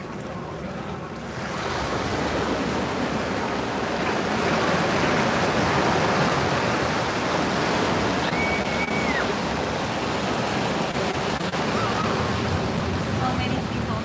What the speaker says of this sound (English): It's a beautiful day at the beach, but the water mass is just too cold sometimes.